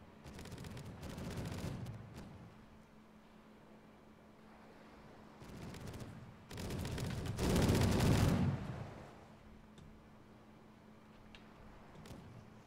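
Ships trade cannon fire in the video game Caribbean!, heard as bursts of rumbling, crackling broadsides. One comes around two seconds in, and heavier, louder volleys follow near six to eight seconds, with quieter sea noise in between.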